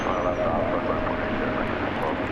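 Airplane at DFW Airport during early-morning plane spotting: a steady, broad engine roar runs throughout beneath a person talking.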